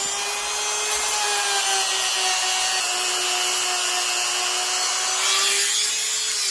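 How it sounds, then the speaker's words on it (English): A rotary tool fitted with a fine bit whines steadily at a high, constant pitch while smoothing and cleaning up the body of a model Tie Fighter, with a slight pitch dip near the end. "we are using a finer bit here just to kind of clean it up"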